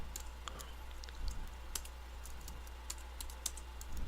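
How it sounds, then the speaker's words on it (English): Close, quiet keystrokes on a computer keyboard as a Linux command is typed, an uneven run of light clicks over about four seconds against a low steady hum. "Now if we want to go back a directory, you type cd space and two dots,"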